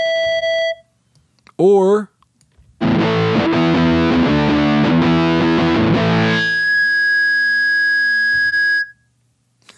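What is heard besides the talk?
guitar feedback effect from Blue Cat AcouFiend plugin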